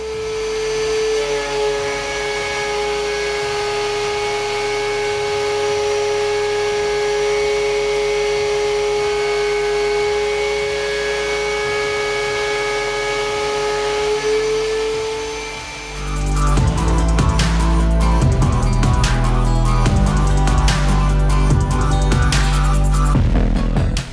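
A DeWalt DW735 thickness planer makes two very light passes on 4-inch wide pine, a loud steady motor whine and hum with a rougher, louder cutting roar starting partway through.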